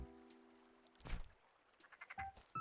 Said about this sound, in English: I think this is a frog.